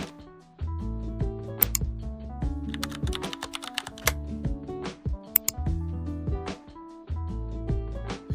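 Keys on a computer keyboard are tapped in quick bursts of clicks to fill in DNS record fields, with short pauses between runs and soft background music throughout.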